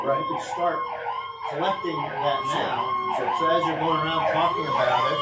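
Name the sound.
emergency vehicle sirens passing outside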